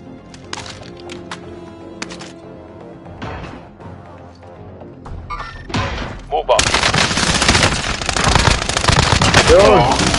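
Rapid bursts of automatic gunfire from the Call of Duty: Warzone video game, scattered shots at first and then a dense, loud barrage dominating the second half, with voices talking underneath.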